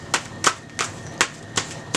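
Tarot cards are shuffled in the hands, sharp crisp slaps and riffles arriving in an irregular rhythm about every third of a second, close and fairly loud.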